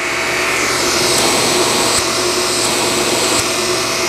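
Shark Apex TruPet Zero-M vacuum cleaner running on carpet, a loud, steady whooshing motor roar with faint clicks as it moves, with no talking.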